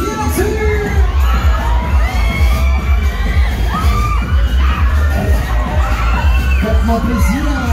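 A dense fairground crowd at a Tivoli funfair shouts, whoops and cheers loudly and continuously, with children's yells and occasional bangs mixed into a steady roar.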